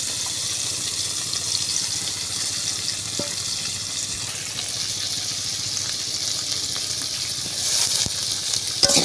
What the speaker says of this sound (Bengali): আমার আলু ভাজা প্রায় সিদ্ধ হয়ে গেছে